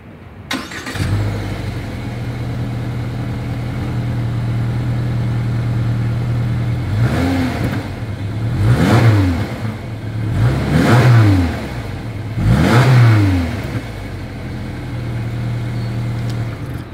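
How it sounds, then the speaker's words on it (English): A Subaru Impreza sedan engine idles with a deep exhaust burble, then revs up sharply three times in succession, each rev rising and falling back to idle. "As always, here is that exhaust clip."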